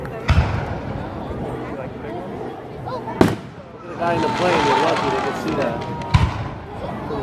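A fireworks show going off nearby, with sharp loud bangs at the start, in the middle and near the end over a steady crackling wash of smaller bursts, while a person talks through it.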